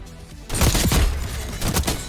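Gunshots in a video game: after a quiet start, a loud burst of rapid shots with booming low impacts, a short lull, then another cluster of shots.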